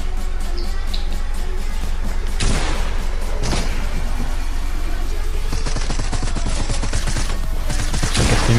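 Shotgun blasts smash through walls in a building-fight game, with sharp booming hits and crumbling debris over a steady low hum. Several loud bursts land close together, then a cluster of rapid impacts follows near the end.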